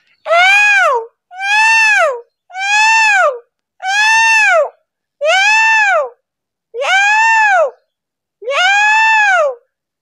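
A voice imitates a peacock's call, giving seven loud, shrill, wailing cries in an even rhythm with short silent gaps between them, heard alone and close.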